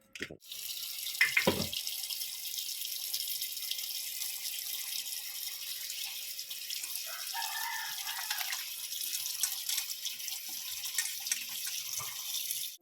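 Mushrooms being washed in turmeric water under a running kitchen tap, a steady close stream of water splashing into a sink throughout, with a few brief handling knocks and faint background sounds.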